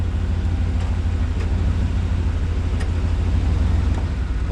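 A truck engine idles steadily close by, a low continuous rumble holding even as the transmission is dropped into gear, with a few faint clicks on top and no talk.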